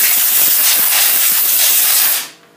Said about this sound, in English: Air gets up in there and cleans that all out.